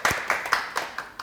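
A small audience claps in about six distinct, evenly spaced bursts, close and moderately loud, right after a live meditation-music performance by a Korean music meditation group.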